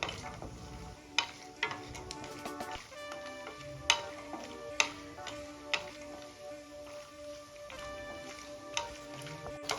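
Dry fruits fry in hot ghee with a soft, steady sizzle, overlaid by frequent light ticks and scrapes of a spoon stirring in the pan, close but quiet throughout.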